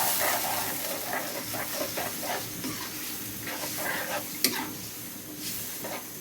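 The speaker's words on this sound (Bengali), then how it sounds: "মশলাটাকে ভালো করে সময় নিয়ে একটু কষিয়ে নেব" Spice paste with firm homegrown tomato fries in a pan, giving a steady close sizzle and hiss with intermittent stirring scrapes and one sharp clink.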